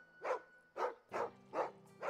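Five evenly spaced dog barks from a canine in the video game Final Fantasy XVI, each short and sharp at moderate volume, with a low steady hum of game background underneath and no talking.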